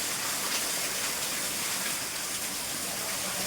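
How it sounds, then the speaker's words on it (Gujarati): Heavy downpour with wind during a storm, a steady dense broadband roar of rain that stays loud and continuous throughout with no breaks and no voices. "ધોધમાર વરસાદ"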